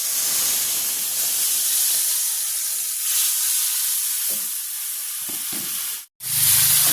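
Spice paste hitting hot oil with cumin seeds in a village kitchen pan, a continuous loud bright sizzle and hiss that holds steady for several seconds before a brief dropout and a sharper burst of frying.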